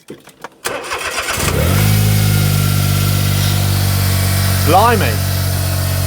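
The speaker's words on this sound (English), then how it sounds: "it is revving quite high because the car's cold." A cold Smart car cranks briefly and fires, settling into a loud, steady high idle with a rev blip near the end after an exhaust replacement; a voice exclaims briefly over the engine.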